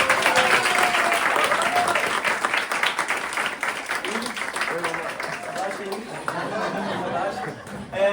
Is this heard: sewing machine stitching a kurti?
no